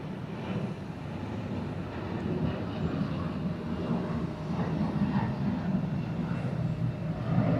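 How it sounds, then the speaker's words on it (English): A Delta CRJ 900 jet takes off at Atlanta airport, a low, distant engine roar that builds gradually and steadily with no talk over it. "I hear Delta 5032 about to take off."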